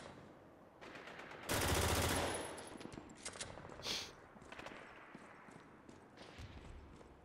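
P90 submachine gun fire in the shooter Spec Ops: The Line comes as a loud rapid burst followed by scattered shots and lighter clatter, moderately close against a faint game background.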